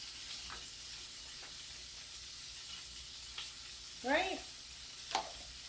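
Prepped asparagus hisses softly in a frying pan, a steady low sizzle under a couple of brief scrapes and a short spoken word.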